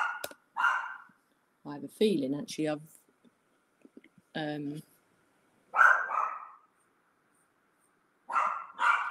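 A dog barks indoors at home in several short, sharp bursts spread across the clip, mixed with someone talking nearby.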